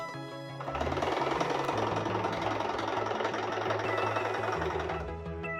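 A sewing machine stitches fabric into a blouse rope, running close and steady with a rapid rhythmic mechanical chatter for about five seconds, no speech.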